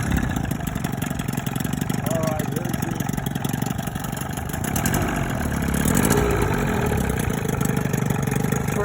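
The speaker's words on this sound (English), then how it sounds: "I'm just going to get the engine started and we'll be taking off out into the waters." An Evinrude 25 hp two-stroke outboard motor runs steadily after starting, a continuous mid-pitched drone that rises slightly in intensity partway through, with no speech over it.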